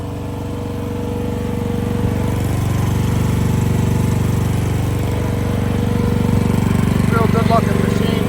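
A 2024 Qk16-R AGT industrial mini excavator's engine runs steadily, a loud close diesel drone with a constant low throb that swells slightly and holds, a brief chirp near the end.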